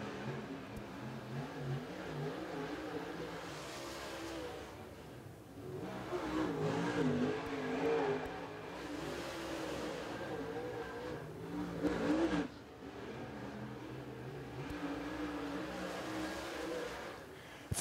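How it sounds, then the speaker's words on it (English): Dirt track race car on a qualifying lap at Clarksville Speedway, engine droning and revving as it circles, swelling louder as it passes and fading away, heard from a distance under crowd ambience. "Here comes Junior, trying to get top time"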